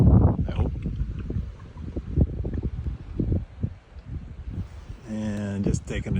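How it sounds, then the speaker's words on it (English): Steady wind buffets and rumbles against the microphone at the Green River Reservoir in Hyde Park, Vermont, while a person speaks in short phrases over it, fairly close. "A little windy, not too bad."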